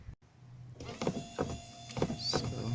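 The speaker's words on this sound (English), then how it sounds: "now the wiper is working because this one has gone out" A car's windshield wiper motor runs during a wiper linkage repair, making rhythmic whirring sweeps with faint mechanical clunks at each turn, about four cycles, close and fairly loud.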